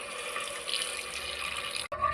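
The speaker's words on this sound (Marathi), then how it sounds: "आता ह्याच्यात टाकूया कळशीभर पाणी" Water pours steadily from a kalshi pitcher into a cooking pot of dal and seasoning for a pressure cooker, a close, continuous rushing splash that stops abruptly near the end, then a brief light trickle.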